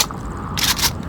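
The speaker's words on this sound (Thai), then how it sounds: "กระสุนหมดเนี่ยรีโหลด" Reloading a weapon in the VR shooter Onward, a short mechanical scrape and click of a magazine swap, close and brief with a sharp metallic burst near the end.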